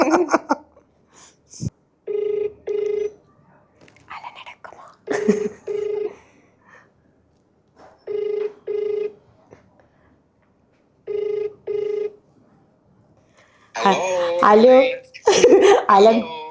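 A telephone ringback tone sounds in repeated pairs of short rings while a call is placed, with gaps of quiet between them; people talk and laugh before and after the rings.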